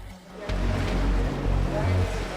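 Artificially generated choppy waves slosh and surge in an indoor survival swimming pool that can raise swells up to 1.5 meters, a loud churning roar building after a brief quieter start.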